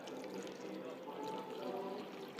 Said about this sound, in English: Let's pour some water in and just see what happens.